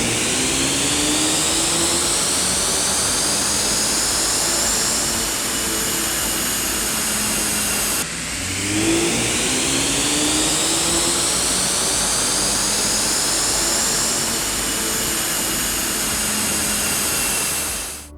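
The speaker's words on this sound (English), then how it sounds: "we're all strapped down to the dyno, and we're ready to make a few pulls and see what kind of power we get" A Volkswagen Mk7 GTI with an aftermarket Luft-Technik intake, turbo-back exhaust and Stage 1 Plus tune roars through two loud, sustained dyno pulls, engine pitch rising steadily with whooshing turbo intake noise, a brief drop between runs.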